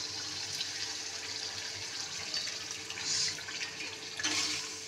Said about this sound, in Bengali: আর আমি তারপরে এই বাটি ধোয়া জলটা দিয়ে দিলাম।